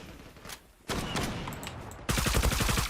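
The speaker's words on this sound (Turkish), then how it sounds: "Fenefal gayet güzel bir silah." Rapid gunfire from an FN FAL rifle in the online shooter Zula, with loud sharp shots crackling in quick bursts that grow denser and louder toward the end, and no voices.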